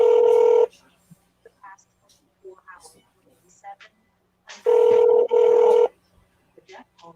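Telephone keypad tones on a call to a Vancouver police line: a sustained tone at the start and two more held tones later, separated by quieter stretches of talk.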